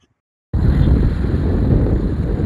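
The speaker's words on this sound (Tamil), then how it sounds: "காற்று நல்லா அடிக்குதுங்க" Wind blows hard across a microphone outdoors, starting abruptly after a half-second of silence and then holding as a loud, steady low roar with gusty buffeting and no speech.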